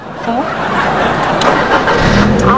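A car engine starts and settles into a steady idle close by on a road in Bishkek. The low rumble holds loud and constant for the whole stretch, and a voice can be heard faintly underneath.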